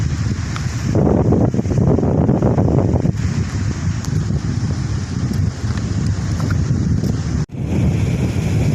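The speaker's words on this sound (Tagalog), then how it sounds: "ang lakas naman ng hangin at saka alon no, kasi may kaming bagyo" Strong typhoon wind buffeting the microphone over rushing sea waves, loud and constant, with a sudden brief drop near the end.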